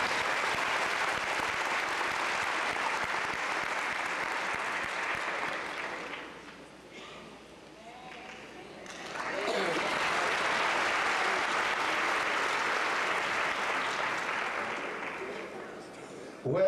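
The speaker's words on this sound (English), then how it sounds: "Give them a big hand as they come this time." Audience applause greets a gospel group taking the stage at an Atlanta studio museum: steady, dense clapping that dips briefly midway and then surges back, with a voice speaking faintly beneath it.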